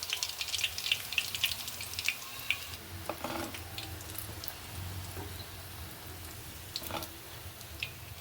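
Mutton kola balls fry in hot oil, with faint, scattered crackles and pops over a soft, bubbling hiss, denser at first and thinning later, with no talking.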